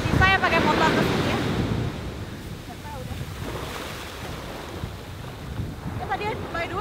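Big ocean waves roll in at Bias Tugel Beach in eastern Bali, a close, continuous roar of surf with gusting wind buffeting the microphone.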